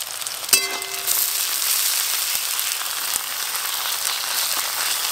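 Ginger garlic paste and chopped onions fry in hot mustard oil for a fish curry, giving a loud, steady, dense sizzle that fills the whole stretch after a sharp clatter near the start.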